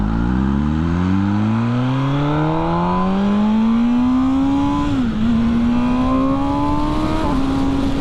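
A 2020 MV Agusta Brutale 1000 RR motorcycle revs up hard from near, its engine note climbing steadily for several seconds, dipping briefly on a shift, then rising again, loud and alone with no talking.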